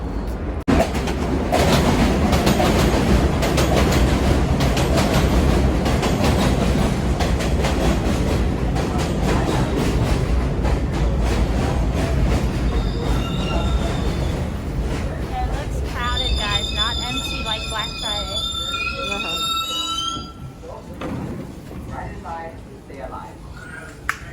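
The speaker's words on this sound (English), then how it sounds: "First, we have to get on the train" A New York City subway train rumbles and clatters along the tracks, then slows as its wheels squeal in high, wavering screeches near the end.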